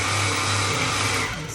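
A long arm quilting machine stitches across a quilt, giving a steady, loud mechanical hum with rapid needle chatter, close and uninterrupted.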